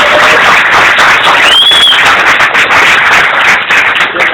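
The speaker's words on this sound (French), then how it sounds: "mais un tonnerre d'applaudissements." A large audience claps and cheers in a dense, loud ovation that carries on without a break, with a faint whistle rising briefly above the crowd.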